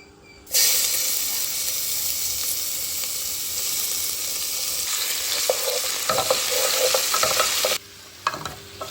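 Loud, steady sizzling and hissing of tomatoes and fish frying in oil with garlic, onion, turmeric and salt, with occasional stirring scrapes before the sizzle suddenly drops away near the end.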